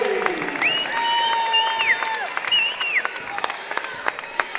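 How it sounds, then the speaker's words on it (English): A crowd cheers and applauds in a gym during a girls' provincial high school basketball game after a made three-pointer, a steady roar with sharp shoe squeaks on the court. "That one put the crowd up on their feet momentarily."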